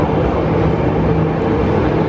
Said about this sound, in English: What type of train is this?